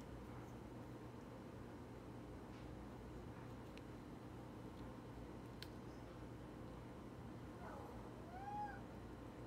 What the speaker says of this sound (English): And of course, there's my cat Chico.